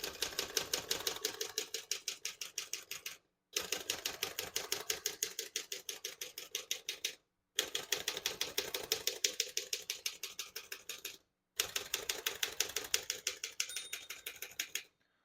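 Rapid, crisp keystrokes clatter on a 1928 Underwood Four Bank portable typewriter in four bursts of steady typing, each ending in a short pause, close up with no talking.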